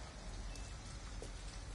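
Rain falling in Detroit: Become Human, a soft, continuous hiss of steady rainfall with a low rumbling undertone, faint and uniform throughout, with no voices.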